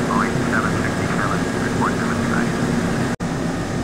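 The piston engines of a Douglas Super DC-3 drone steadily through a cabin in flight, a constant dense roar with a faint low hum and no change in pace, broken only by one brief dropout near the end.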